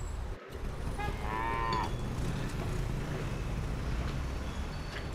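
A cow standing in front of a palace-like building in a Nepali music video lets out a drawn-out moo about a second long over a constant rumbling background.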